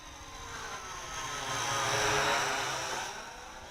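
Syma X8C quadcopter drone flying downwind at full forward pitch, a high buzzing whine of small propellers that swells as it nears and fades again, steady and alone without talk.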